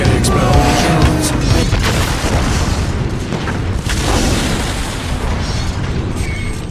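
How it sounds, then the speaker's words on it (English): Explosion in the film Inspector Gadget 2, a loud rumbling boom with crashing debris rolling on for several seconds. "Cool guys don't look at explosions."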